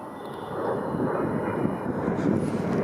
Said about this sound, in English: there's a plane. It's probably gonna land at Billy Bishop.